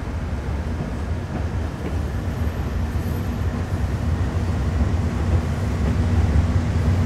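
A train locomotive in Train Sim World 5 runs at throttle notch 1 climbing a gentle uphill grade, a steady loud rumble of engine and rolling wheels that builds slightly toward the end, with no voices.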